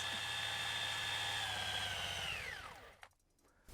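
A power drill spins a Toyota Corolla car alternator on a bench, giving a loud, steady high-pitched whine that holds for nearly three seconds, then drops in pitch as it winds down and stops.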